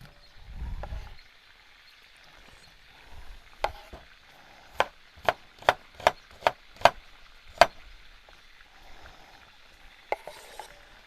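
Knife chopping onion into julienne strips on a wooden board in a kitchen, heard as a run of about eight crisp, evenly spaced cuts in the middle, with a few scattered knocks before and after.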